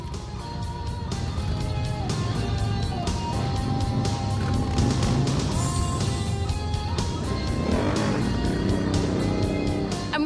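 A group of Harley-Davidson motorcycles on a mass ride at a bike week event, with continuous loud engine roar and droning exhaust from several bikes passing close by.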